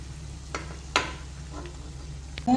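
Vada deep-fry in hot oil with a soft, continuous sizzle, broken by a few sharp clicks and scrapes from a spoon or slotted ladle.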